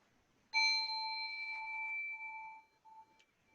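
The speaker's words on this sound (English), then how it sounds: "And I'll ring the bell to start the meditation" A meditation bell is struck once to open a sitting meditation. Its clear, bright tone with ringing overtones sustains, then slowly fades, with a last faint shimmer before silence.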